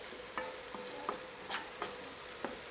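Chopped ash gourd frying on an electric stove is stirred with about six light spatula scrapes spaced over a soft, faint sizzle.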